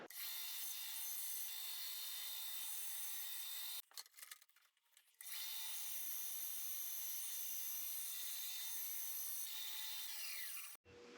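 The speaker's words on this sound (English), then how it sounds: "now we're going to cut this guy up and make a ring blank that we can put on the lathe" Power saw cutting through a glued-up block of epoxy and wood to make a ring blank, a steady loud whine that cuts out briefly midway, then resumes and stops abruptly near the end.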